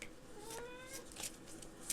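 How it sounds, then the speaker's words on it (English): A cat gives a short, faint, rising meow, soft against a quiet room background. "You're a cat."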